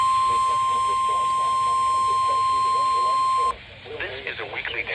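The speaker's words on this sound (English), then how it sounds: "This is a weekly test of the NOAA Weather Radio All Hazards Warning Device" A NOAA Weather Radio weekly test sounds its steady, loud single-pitch warning tone for about three and a half seconds over a radio hum, then cuts off abruptly as an announcer begins speaking.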